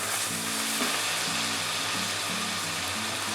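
Masala with tomato sizzles steadily in a pan, a close, continuous frying hiss with a few soft stirring scrapes mixed in.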